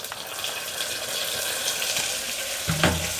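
Chopped tomatoes hit a pan of frying onions for vegetable biryani, giving a bright, continuous hissing sizzle up close, with a short knock and clatter near the end.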